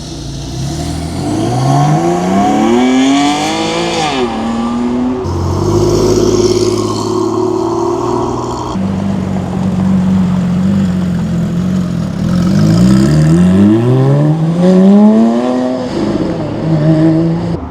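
Several Porsches rev hard as they pull away from a cars-and-coffee meet, engine notes rising and falling in repeated loud sweeps, one car after another, with no talk over the sound.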